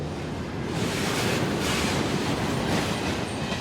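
Long freight train hauling oil on the Transcaucasus Railway, a steady loud rumbling roar with rushing wheel noise and faint rhythmic clatter, heard from close by with no talk.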